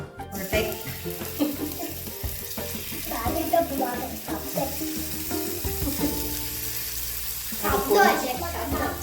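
Prawns for a Venad-style milk prawn curry fry in a hot pan with a steady, busy sizzle that swells and fades, partly under faint voices and background sounds.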